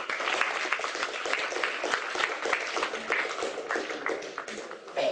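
Audience applause at a lecture, dense steady clapping from a crowd filling the whole stretch at moderate loudness, close and continuous without a break.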